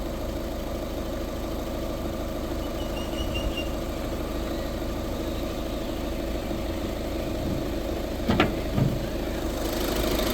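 A 2015–2016 Skoda Rapid diesel car idles steadily in a close, even rumble, with a couple of brief louder knocks near the end and no speech.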